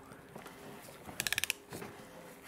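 A ratcheting tool tightens the oil filter on a 2015 Mini One 1.2, giving a quick run of about six crisp clicks midway through, amid quiet handling noise.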